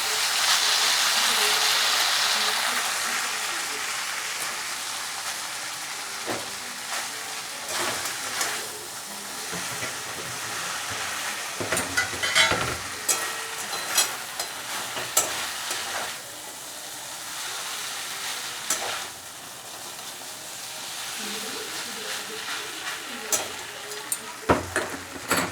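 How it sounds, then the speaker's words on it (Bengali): Chow mein stir-fried in a kadai gives a steady sizzle and hiss, broken by repeated scraping and tossing sounds of the spatula against the pan throughout. "এবার আমি কড়াইয়ের মধ্যে চাউমিনটা দিয়ে দিচ্ছি।"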